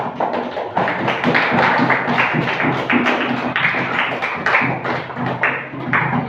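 Classroom applause for students, a loud, close, steady clapping from a group that runs throughout with uneven, overlapping hand claps.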